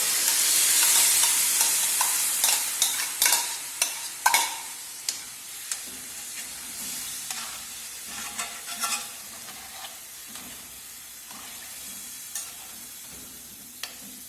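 Chicken frying in a pot with pumpkin, Irish potato, scallion, thyme and sweet pepper for a Jamaican dinner, a steady close sizzle with repeated scraping stirs and clinks of a spoon throughout, no voices.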